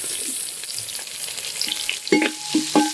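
Three hundred grams of onions hit hot oil already holding five green chillies and two sprigs of curry leaves, a close steady sizzle with a few louder spatters and stirring scrapes near the end.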